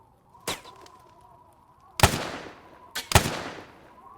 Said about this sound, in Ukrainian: Хтось по мені стріляє з вишки, походу.